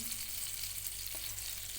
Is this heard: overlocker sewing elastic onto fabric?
no